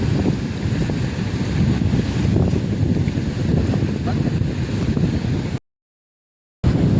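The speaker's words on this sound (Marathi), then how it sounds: "पाणी खूप मारतंय बघा, वारा भरपूर आहे" Strong wind buffets the microphone while rough sea waves churn around a small fishing boat at sea, a loud steady roar broken by a brief dropout near the end.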